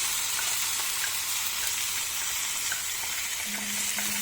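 Thinly sliced red and green peppers sizzle steadily in a hot pan while being sautéed for liver maqluba, a constant close frying hiss with no talk.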